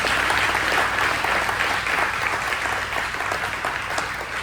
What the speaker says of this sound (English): If we can give our workforce development folks a round of applause.